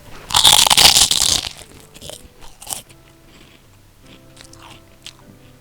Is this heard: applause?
no